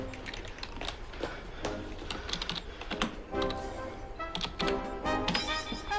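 Rapid keystrokes clatter on a computer keyboard as a message is typed, a close and continuous run of crisp clicks with slight variations in rhythm throughout.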